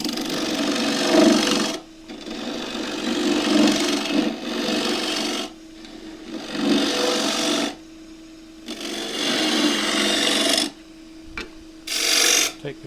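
A wood lathe spins at about 1600 rpm while a tool cuts a split, worm-eaten bowl blank, giving steady rasping bursts of several seconds each, separated by short quieter pauses.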